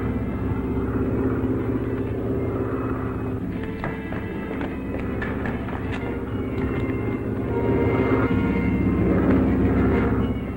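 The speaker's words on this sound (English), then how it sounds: "An aeroplane." A propeller plane drones steadily overhead, the engine hum swelling louder toward the end amid faint background clatter.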